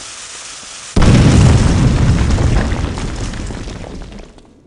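A loud explosion in the Clive Barker's Undying video game bursts in after a quiet second, a dense roaring boom that slowly rumbles away over several seconds.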